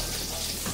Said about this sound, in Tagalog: Magigisa natin yung bawang.